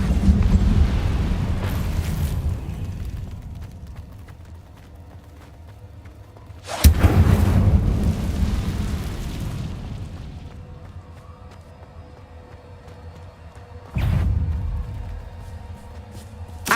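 Incendio fire spell blasts in Hogwarts Legacy, three loud booming bursts with roaring fiery tails, the first near the start, a big one around the middle and another toward the end, alone without talk.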